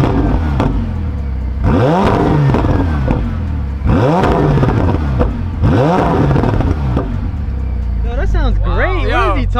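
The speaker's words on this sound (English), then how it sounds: "It's not gonna sound as good as the V12, 812, but it's a twin turbo V8," Twin-turbo V8 car engine revving hard in three loud, sweeping bursts that climb and fall, followed by quicker rising revs at the end, with a low idle rumble between them.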